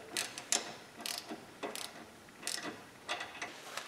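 Ratchet cranking to tighten a track bar bolt on a Jeep Cherokee, close and crisp, in short bursts of rapid clicking separated by brief pauses.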